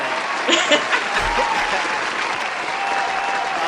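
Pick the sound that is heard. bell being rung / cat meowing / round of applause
round of applause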